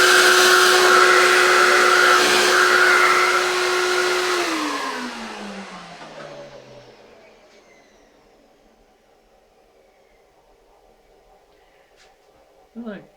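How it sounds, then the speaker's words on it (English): Vacuum cleaner hoovering swarf out of the slot of a low-profile rotary table in a workshop, a loud steady whine that runs several seconds and then winds down in falling pitch to quiet. "I'm just going to hoover out the slot and get rid of all the tuck."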